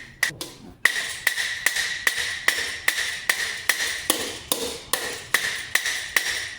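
Steady metallic hammer blows setting rivets on a helmet ring out one after another at an even pace, a dozen or so sharp clangs close by.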